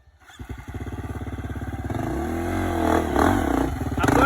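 A KTM motorcycle engine revs up on a trail near a waterfall, a rapid close idle thrum that climbs into louder, rising and falling throttle pulls.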